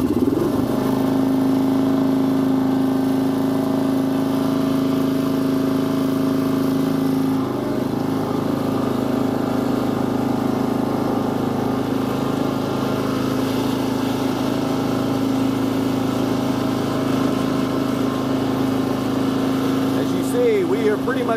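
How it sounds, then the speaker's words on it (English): A Husqvarna Rider 970 riding lawn mower drones steadily while being driven, its engine humming close and continuous, with a brief change in pitch partway through and occasional speech over it. "let's hop on this thing, because this is just a really cool mower"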